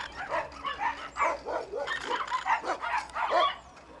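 A dog barks and yelps repeatedly in a rural Brazilian setting beside a road railway, producing a steady run of medium-distance barks that continue throughout with no speech.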